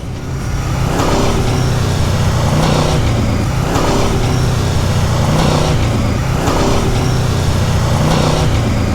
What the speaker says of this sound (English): To do this, we try to do a staggered slalom, adding and releasing the throttle.